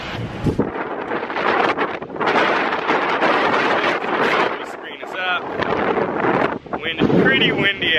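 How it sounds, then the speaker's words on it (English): Strong wind gusts buffet a camera microphone outdoors between two buildings, giving loud, uneven roaring bursts that rise and fall, with a person speaking briefly over the buffeting. "It is super windy out here."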